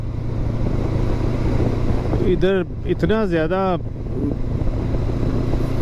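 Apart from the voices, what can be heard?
riding a motorcycle on a road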